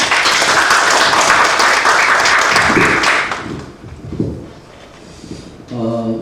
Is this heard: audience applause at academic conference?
yes